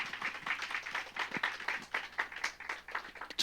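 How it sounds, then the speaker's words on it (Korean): Church congregation at a special revival meeting giving a round of applause to God, a soft, somewhat distant patter of many hands clapping in quick uneven bursts that continues steadily. "하나님께 영광의 박수로 돌려드릴까요?"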